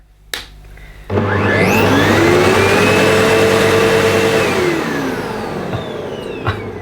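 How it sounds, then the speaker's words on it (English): Vacuum cleaner switched on at the wall plug, a sharp click and then the motor spinning up into a loud, steady whine that eases slightly toward the end, with no talking. "I've got a vacuum here. So if I switch on the plug"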